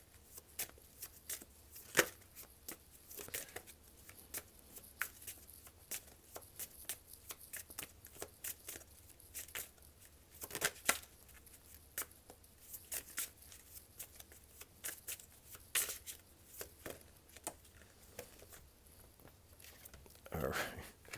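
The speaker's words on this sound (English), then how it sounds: "Every time I shuffle this deck" A deck of tarot cards shuffled over and over, soft crisp riffles and snaps in an irregular rhythm, close and fairly quiet.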